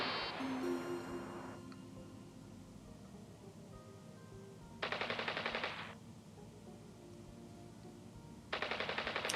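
Bursts of gunfire from a fire mission in the video game Space Imperia rattle out in two short, hissy volleys over a quiet ambient game background, after a fading opening tone.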